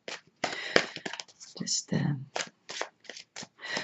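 Tarot cards are shuffled in quick riffling bursts while a person talks over them.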